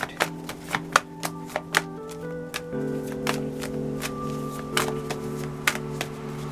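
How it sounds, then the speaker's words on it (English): Tarot cards being shuffled in a series of sharp riffling bursts, repeated several times, with steady background music underneath. "One more shuffle."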